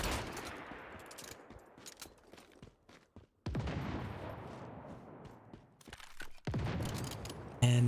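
Gunfire in the video game Once Human: dense bursts of shots and automatic fire crackle loudly, stopping and restarting in waves, with a sharp blast near the end.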